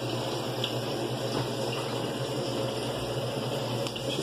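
A washing machine fills with water entering from below, a continuous steady rush and trickle of water with a constant mechanical hum underneath.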